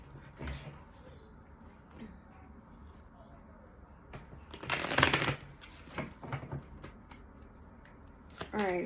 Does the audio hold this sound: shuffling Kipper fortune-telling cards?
yes